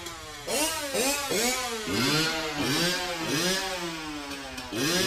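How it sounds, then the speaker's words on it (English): A cartoon dirt bike engine revs loud and close in repeated rising and falling whines, pumped out in a rhythmic, melody-like pattern as if playing a national anthem. "please rise for our national anthem, performed this afternoon by Peter Griffin and his dirt bike"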